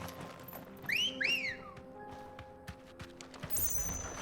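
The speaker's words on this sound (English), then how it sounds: "That's like that's the classic cat call whistle, and that's how we're summoning our chocobo." A two-note rising-falling whistle summoning a chocobo in Final Fantasy XVI, heard twice in quick succession over a quiet game ambience, followed later by a bright chime.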